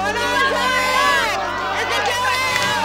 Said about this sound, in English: the whole crowd is continually yelling out